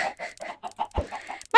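Minecraft chickens cluck in a farm, a rapid string of short clucks close by, followed by a sharper squawk at the end.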